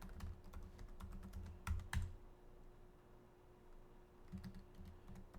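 Someone types a password on a computer keyboard: quiet, close clicks in short bursts with brief pauses, faint and without any talk.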